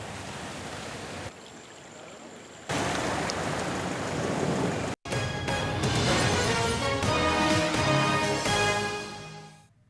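Heavy rain pours steadily and loudly in Sri Lanka's Kalutara district, where flooding covers roads near Baduruliya, a dense continuous hiss that briefly cuts out and then returns stronger.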